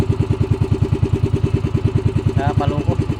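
A motorcycle engine held at a high idle, a steady rapid low thumping pulse that stays even and close throughout, with a brief high whine toward the end and no talk.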